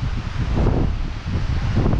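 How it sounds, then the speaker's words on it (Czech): Strong wind gusts buffet the microphone at an outdoor spot overlooking a valley, making a loud, uneven low rumble that swells and dips throughout. "Fouká, nevím, jestli mě uslyšíte, ale fouká hodně."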